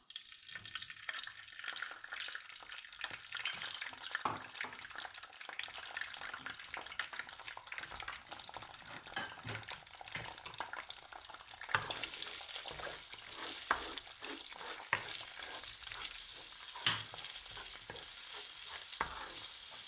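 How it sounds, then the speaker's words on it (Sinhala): Egg being scrambled in hot oil in a pan gives a continuous crackling sizzle with frequent scraping stirs, fairly quiet and steady, with no voices. "බිත්තරේ අපි හොඳට ස්ක්‍රැම්බල් කරගමු"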